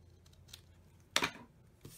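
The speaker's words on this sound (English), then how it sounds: "I think I'm going to cut this a hair shorter." Scissors snip once sharply through material while assembling a reindeer treat holder, a single crisp cut standing out against a quiet room, followed moments later by a faint shorter sound.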